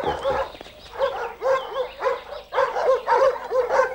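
Border guard dogs bark close by in a rapid series of sharp woofs and yips, with brief pauses between the clusters. No one speaks.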